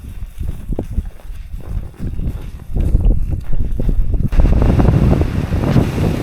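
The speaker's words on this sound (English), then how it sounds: "It's a bit windy." Strong gusty wind on a hillside walking trail in the Brecon Beacons buffets the microphone with rumbling low roars that build and stay loud toward the end, with no voices.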